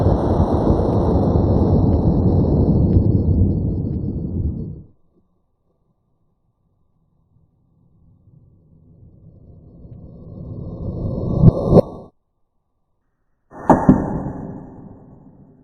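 A .223 Winchester XP round is fired outdoors into a row of quarter-inch boards during a penetration test, giving a loud sharp crack with a ringing tail, then a second close report after a breezy pause, over wind noise.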